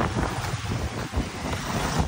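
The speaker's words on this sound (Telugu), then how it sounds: "అలలు అయితే గట్టి గట్టిగా వస్తున్నాయి సౌండ్" Sea waves break on the beach at Uppada in a steady, loud, broadband roar with heavy wind buffeting the microphone, and no voices.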